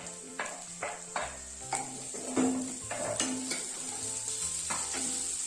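Tomatoes and spices frying in a pan produce a continuous sizzle, with several scraping, clattering stirs of a spoon against the pan at irregular intervals.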